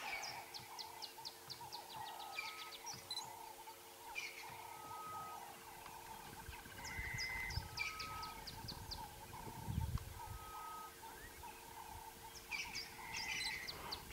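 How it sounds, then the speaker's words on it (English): Soft, repeated cooing calls of ring-necked doves drift in from a distance over a steady outdoor hum at sunrise on a safari, with faint chirps scattered throughout. "We've got ring-necked doves going prop-prop"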